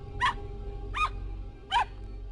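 Three short dog barks or yips from a video game, Ever17, evenly spaced and fairly close, over a steady low hum of background music.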